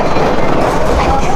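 Subway train in China rumbling along the platform with a steady, loud broadband roar and rail noise, continuous throughout, with faint voices mixed in.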